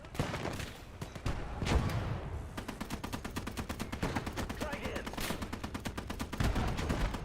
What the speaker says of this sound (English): Shooting it with a 50, hopefully it'll die.